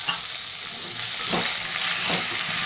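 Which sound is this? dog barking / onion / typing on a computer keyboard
onion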